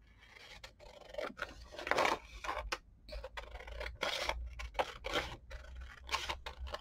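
Scissors snip repeatedly through paper to cut out cone-shaped bead pieces, a close series of crisp, irregular cuts and rustles with no talk.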